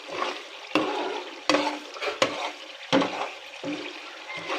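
Food stirred in a hot pan while it sizzles, with close, rhythmic scraping strokes about every three-quarters of a second over a steady frying hiss.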